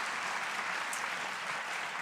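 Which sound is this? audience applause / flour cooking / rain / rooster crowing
audience applause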